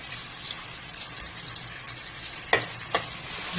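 Hot dogs frying in oil in a pot, with a steady hissing sizzle and two sharp clattering bumps near the end.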